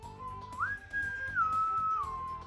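A human voice imitates a ship's whistles with one sustained whistled tone that glides up, holds, then steps down and fades, clear and close over quiet background.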